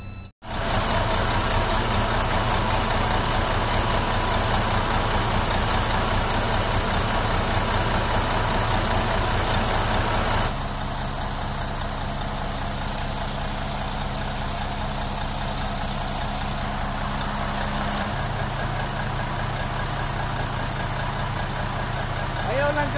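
A bus engine idles steadily to warm up at a driver training session in Butuan City, a continuous low rumble that shifts slightly in tone partway through as the idle settles, with voices talking intermittently over it.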